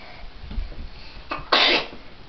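A single sharp sneeze bursts out after a brief intake of breath, close and loud, in an otherwise quiet room.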